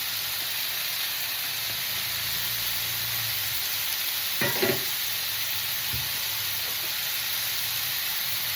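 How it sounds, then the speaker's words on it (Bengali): Ginger-chili paste with coriander, cumin and chili powders frying in a pan, a steady sizzling hiss throughout with a couple of brief scraping stirs midway, close and alone. "এখন আমি আদা লঙ্কার পেস্টটা দিয়ে দিচ্ছি। দিয়ে দিচ্ছি ধনের গুঁড়ো, জিরের গুঁড়ো এবং লঙ্কার গুঁড়ো।"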